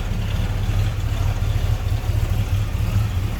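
A 1978 Pontiac Trans Am's 400 cubic inch (6.6 liter) V8 idles with a deep, steady low rumble, close and continuous, with no voices.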